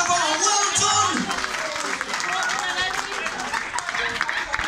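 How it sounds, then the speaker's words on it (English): Clapping fills the room at a darts presentation night, a steady crowd round of applause carried under overlapping chatter and a voice speaking. "give them a big round of applause"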